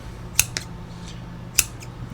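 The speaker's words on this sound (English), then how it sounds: "these scissors right here, they're just heavy duty and thick, and they just don't bend at all, and they just mow through anything" Heavy-duty thick EDC scissors snip through material in a few sharp, crisp cuts, two close together and then one more after a pause, each a short bright click against a quiet room hum.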